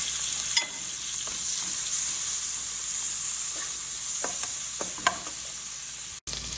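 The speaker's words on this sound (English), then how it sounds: "So firstly, I'm adding the saltfish. So that's fry it a bit." Saltfish frying in a pan for tomato choka, a steady broadband sizzle throughout with a few soft clicks and utensil taps, close and unbroken, no voices.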